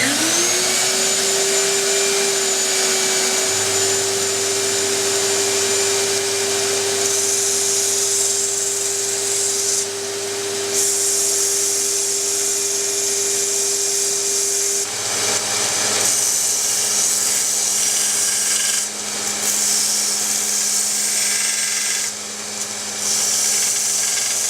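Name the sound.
belt sander grinding metal frame edges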